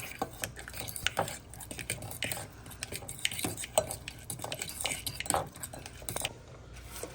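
Utensil scraping and clinking against a bowl while lemon juice is mixed into a pork shoulder marinade, a steady run of light metallic taps and scrapes, close and alone with no talk.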